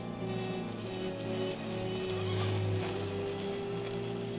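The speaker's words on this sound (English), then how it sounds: "There's a horse coming up." A horse's clip-clop and a whinny sound over a steady tonal musical background, the animal seemingly drawing nearer.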